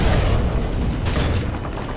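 A tank being hit and blowing up in Call of Duty Modern Warfare 3, a heavy rumbling boom that rolls on and slowly fades, dense and loud with no voices over it.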